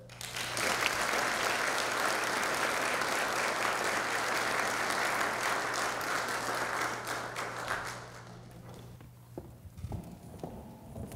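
An audience at a public leadership event applauds to welcome a speaker, dense sustained clapping that stays loud for about eight seconds before dying away into scattered claps and room noise.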